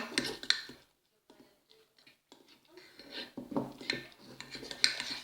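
Homemade toothpaste ingredients are stirred in a container with a utensil: close, uneven scraping and rasping strokes with small clinks, broken by a brief pause, then faster stirring again.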